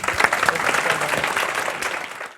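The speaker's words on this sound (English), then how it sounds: "Could we have a round of applause for our volunteers?" A short burst of applause from a workshop audience, many hands clapping together and tapering off at the end.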